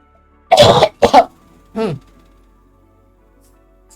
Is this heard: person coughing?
yes